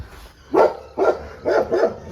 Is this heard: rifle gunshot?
no